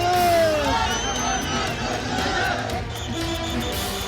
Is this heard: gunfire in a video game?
no